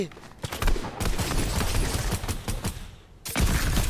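Rapid gunfire from a weapon in Fortnite Reload on a Squid Game map, dense loud bursts of shots in quick succession with a brief pause near the end, while players talk.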